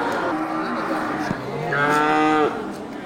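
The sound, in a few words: cattle mooing, cow with calf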